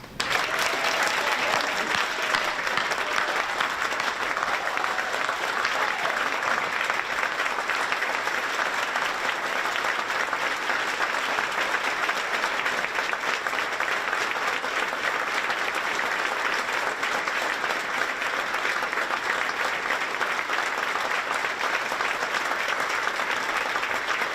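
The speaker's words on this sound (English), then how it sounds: "So if you could please give Dorothy 46 years worth of a rousing applause" Loud, sustained applause from the audience at a chamber of commerce annual meeting and awards event, steady clapping filling the room without a break for over twenty seconds.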